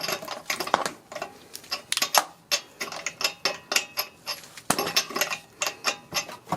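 A socket wrench works the lug nuts off the wheel of a 2012 Dodge Caravan, producing rapid ratcheting clicks in short repeated bursts, close by and with no voices.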